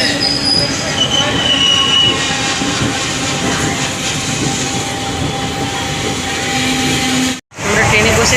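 An express train bound for Raipur runs along the rails, giving a loud, continuous rumble with high wheel squeal and steady clatter. The sound drops out for a brief moment near the end, then comes back.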